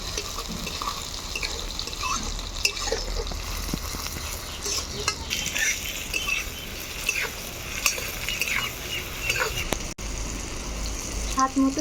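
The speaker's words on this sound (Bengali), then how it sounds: "ভালোভাবে লঙ্কা পেঁয়াজটাকে ভেজে নিয়ে ছেড়ে দিব টমেটো কুচি।" Green chilli and chopped onion frying in a pan, a steady close sizzle with scraping stir strokes and small clinks running through, no talk.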